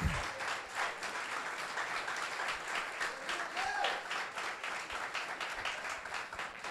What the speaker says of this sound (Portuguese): até quando você pode aplaudir o Senhor Jesus